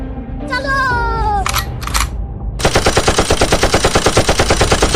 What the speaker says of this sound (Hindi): इन लोगों पर मशीन गन चलाना पड़ेगा